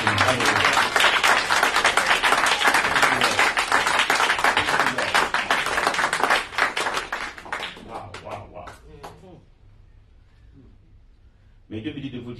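Church congregation clapping and applauding loudly and continuously during a French-speaking worship service, dense and close, gradually fading as a voice speaks over it.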